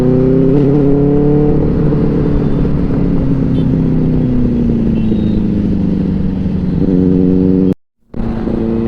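Sport motorcycles, including a Hayabusa Gen 3 and a Ninja H2 SX, ride together on a Sunday group ride, their engines droning loud and close with rising and falling revs, cut by a brief dropout near the end.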